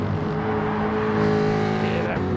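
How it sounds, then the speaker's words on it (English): Ford-engined race car in a Super Group 3 championship round at Circuit de Barcelona-Catalunya, a loud, continuous engine roar with steady harmonic drone, briefly dipping near the end as the engine fires down. "Hear that thunderous engine fire down."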